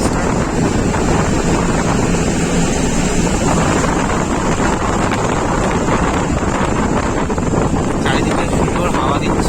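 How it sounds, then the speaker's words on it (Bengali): A bus travelling on the road toward Durgapur, with a continuous loud rumble and heavy wind buffeting across the microphone from an open window, steady throughout. "সুন্দর চলছে বাসটা"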